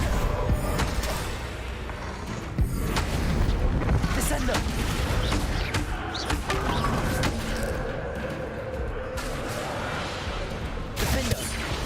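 Bombarda blasting spell explosions in Hogwarts Legacy, a dense run of booming, rumbling blasts and thuds that stays loud and close throughout, with game effects layered over a continuous low roar.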